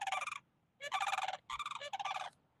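Birds call near a golf course in three loud, close bursts of rapid, gobbling, rattling notes, separated by short silences.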